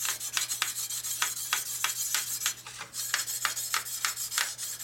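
Steady rhythmic rasping strokes, about two per second, of hand-sanding a new front disc brake rotor on a 1988 Harley-Davidson FXR, close and continuous with a faint hum underneath.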